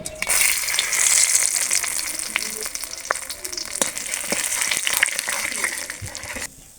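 Cumin, dried chillies and bay leaves crackle and sizzle in hot mustard oil, a continuous frying hiss with sharp pops scattered throughout, close and fairly loud.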